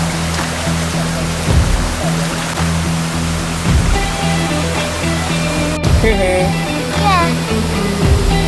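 A river stream at a campsite in Kampung Sahom rushes in a loud, steady wash of flowing water, with voices speaking briefly over it.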